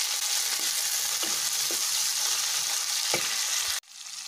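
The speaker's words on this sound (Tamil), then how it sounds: "இப்போ பரண்டை சேர்த்து வதக்கிடலாங்க பரண்டை அஞ்சு நிமிஷம் போல் நல்லா வதங்கணும்" Pirandai stalks sautéing in hot oil with onion and green chilli in a pan make a loud, continuous sizzle. A few soft stirring knocks sound before the frying drops away sharply near the end.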